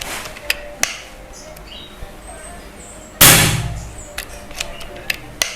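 A single sharp, loud crack from an FX Royale 500 high-pressure air rifle, decaying briefly, with quiet outdoor ambience and a few faint clicks before and after.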